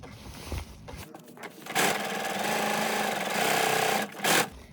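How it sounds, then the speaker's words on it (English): A sewing machine runs steadily along the edge of a fifties-style halter neck dress, stitching a straight seam in one continuous loud run of about two seconds, then a brief pause and a short final burst, with no talking. "I'm literally just going to sew down here 1 centimetre from the edge"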